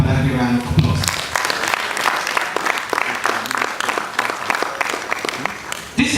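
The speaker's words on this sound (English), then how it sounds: "please give Badagry a round of applause." An audience applauds at a mentorship summit in Badagry, Lagos, with a voice speaking briefly before dense clapping builds and holds steady to the end.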